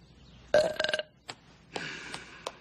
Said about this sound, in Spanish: ¿Quieres saber cómo suena un verdadero eructo?